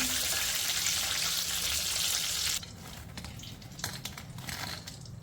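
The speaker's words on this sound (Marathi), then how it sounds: "मशरूम असे लालसर होईपर्यंत तळून घ्या" Mushrooms deep frying in hot oil over a full flame, a loud steady sizzle for the first half that drops to a quieter, crackling fry with occasional small pops, no voices.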